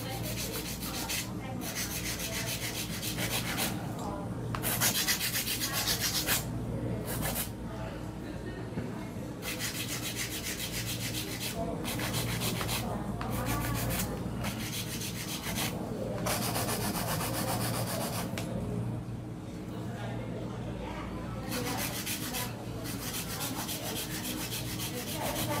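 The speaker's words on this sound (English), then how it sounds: "All the excess acrylic out. I'm gonna hand file" Steady rasping of a hand file scrubbing back and forth across hard acrylic nails, with brief pauses between strokes; no talking.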